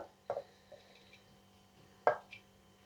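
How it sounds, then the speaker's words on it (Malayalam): Grated beetroot drops into a clay pot for Kerala sadya beetroot pachadi, making two soft, damp thuds about two seconds apart with faint small sounds between, close and quiet. "ചട്ടിയിലേക്ക് ബീട്രൂട്ട് ഇട്ടെടുക്കാം"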